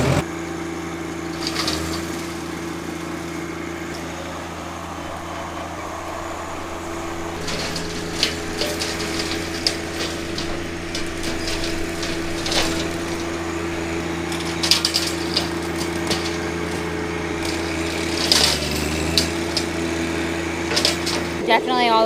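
A lawn mower engine drones steadily close by throughout, a constant mechanical hum with occasional knocks and rattles over it in a yard cleared of bushes and vines.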